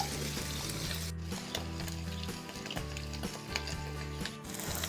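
Wild forest mushrooms sizzle steadily in a hot frying pan, a continuous close crackle with occasional clinks of stirring over a low background hum.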